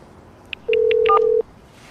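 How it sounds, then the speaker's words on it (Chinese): Phone keypad tones as a number is dialed on a mobile: four short beeps in a row, then a longer steady tone overlapping a few more beeps, clear and close in a quiet setting with no talking. "陈豪，这有车主的电话。"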